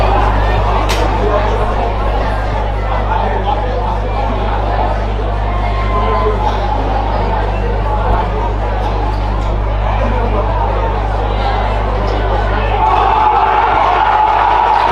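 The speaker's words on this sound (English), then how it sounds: "Listen to the crowd, listen to this atmosphere." A large crowd at an Adelaide Australian football league grand final roars and chatters continuously, a dense, loud wall of noise with a steady low hum underneath.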